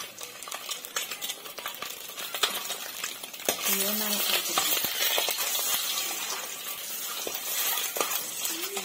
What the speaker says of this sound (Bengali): ডিমাটা আগে ভেজে নিব, অল্প হলুদ গুঁড়া দিয়া মাখাইয়া ভেজে নিব